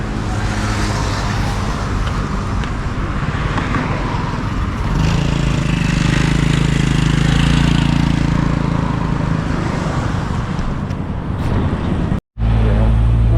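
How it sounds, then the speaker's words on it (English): A car drives along a busy street in Udon Thani, Thailand, with a loud, steady engine and road roar that swells at one point, set against continuous surrounding traffic and ending with an abrupt cutoff. "Okay, beautiful car."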